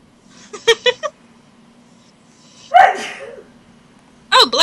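Several sharp sneezes burst out close to the microphone, a short cluster at first, another forceful one later, and a final one at the end, over a low hum.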